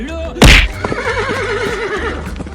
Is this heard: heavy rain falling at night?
no